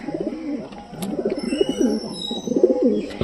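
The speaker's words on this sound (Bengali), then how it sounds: "ওই কবুতরটার ডাক দেখো" Pigeons perched in a loft coo in repeated low, throaty phrases, close and fairly loud, with no talking over them.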